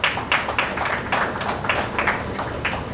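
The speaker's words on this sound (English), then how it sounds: "A round of applause for them," Crowd at an awards event giving a round of applause, a dense wash of clapping with a few louder bursts, continuous and fairly loud, with no voices over it.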